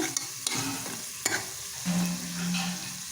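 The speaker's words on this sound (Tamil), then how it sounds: "மிளகாத்தூளை கொஞ்சோண்டு ஆட் பண்ணால் போதும் நல்லா வதக்கி வச்சுக்கோங்க" Tomatoes with a little chili powder sautéing in a pan, a steady close sizzle punctuated by a few sharp spoon knocks against the pan and a brief ringing metallic scrape.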